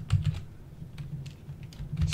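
Quick, light taps on a computer keyboard, close and fairly quiet, in an uneven burst of several keystrokes with no talking.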